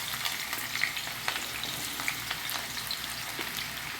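Sliced onions frying in heated oil in a pan for a vankaya mutton masala, a close, steady crackling sizzle with small pops, no voices.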